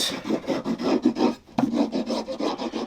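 Masking tape rubbed and burnished down firmly along a guitar build workpiece, a steady series of close, scratchy rasping strokes with a brief pause midway before the rubbing resumes.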